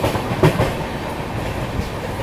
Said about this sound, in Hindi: बाकी ये अपनी बिहार संपर्क क्रांति ने क्रॉस किया है अभी गाजियाबाद जंक्शन